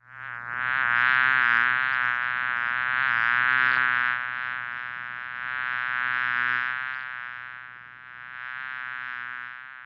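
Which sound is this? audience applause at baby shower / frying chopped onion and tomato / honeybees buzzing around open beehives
honeybees buzzing around open beehives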